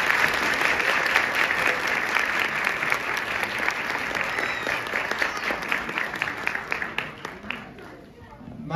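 Steady audience applause fills a hall after children's Orff ensemble performers take the stage at a music school concert, dense clapping holding loud and continuous before easing slightly near the end.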